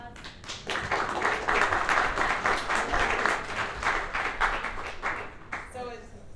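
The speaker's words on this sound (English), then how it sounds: "Give her a big round" Audience applause for a speaker being welcomed at a live insurance kickoff event, a steady wash of clapping that swells and holds for several seconds before tapering off near the end.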